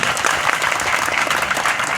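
Audience at a presentation clapping, a dense steady burst of applause filling the room, loud and continuous for the whole stretch.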